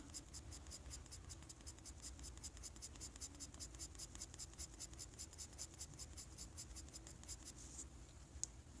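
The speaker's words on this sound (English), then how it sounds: "I'm holding my pencil as if I'm drawing with a feather, super light" Light, continuous scratchy strokes of a pencil held very lightly, moving softly across paper, steady and close, with no voices.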